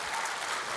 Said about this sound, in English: can you give her applause here?